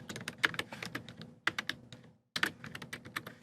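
Fingers type on a computer keyboard in quick bursts of close, crisp key clicks with brief pauses between runs and no talking.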